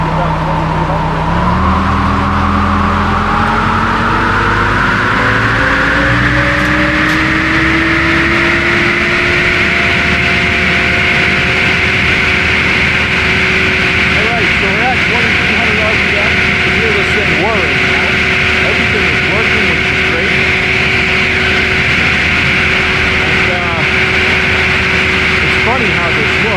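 A sawmill saw's engine revs up to about 2,300 rpm, its loud steady roar rising in pitch over the first several seconds and then holding high and constant, with a voice speaking over it.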